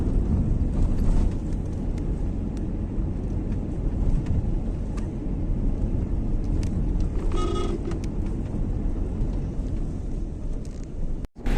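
A family car rolling along a road, heard from inside the cabin as a steady low engine and tyre rumble with road hiss, a few light knocks and rattles over bumps, and a clunk near the end.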